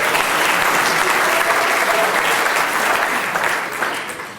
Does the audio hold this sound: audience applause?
yes